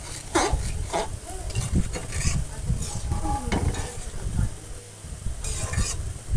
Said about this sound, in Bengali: এবার এর মধ্যে আমি ডাল সেদ্ধটা দিয়ে দেবো।